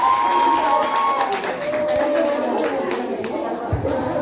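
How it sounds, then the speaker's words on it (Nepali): A school results ceremony crowd claps and cheers in a dense, steady wash of hands, with some chatter and voices mixed in. "वहाँ को जोरदार ताली को अपेक्षा गर्दछु।"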